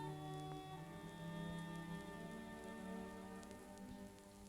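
Rain falling over a Japanese town, heard as a soft, continuous patter under a sustained tonal music score in an old 1959 film soundtrack, steady and fairly quiet.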